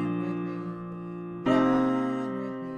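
A piano sounds a sustained chord from a pop song, held out softly, then a second chord is struck more brightly and rings down quietly.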